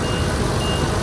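Engine of an 8.1 Vortec Workhorse chassis idling with the jacks down, a loud, steady rumbling drone with no talk over it.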